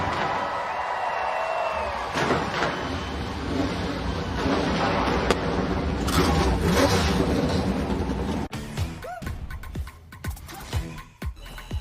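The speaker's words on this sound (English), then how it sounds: "Drivers, start your engines!" NASCAR Cup race car engines at the EchoPark Automotive Grand Prix in Austin, Texas, fire up and rev together in a loud, sustained roar, with crowd noise underneath and sharper bursts of revving near the end.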